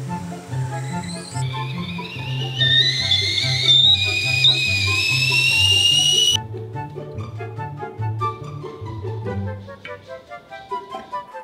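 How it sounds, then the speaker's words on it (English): A Le Creuset Classic whistling tea kettle's whistle rises to a loud, shrill tone for several seconds, then cuts off abruptly, with soft music playing underneath throughout. "Classic whistling kettle from Creuset."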